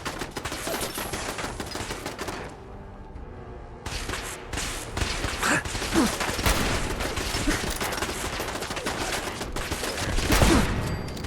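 Rapid turret gunfire in Fallout 4, dense overlapping bursts of automatic shots nearly continuous across the clip, with a brief lull partway through before the firing resumes loudly and builds toward the end.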